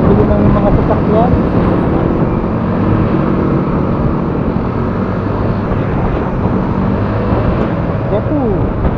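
Heavy car traffic on a Metro Manila road, a steady, loud, dense rumble of engines and tyres that continues unbroken from start to finish.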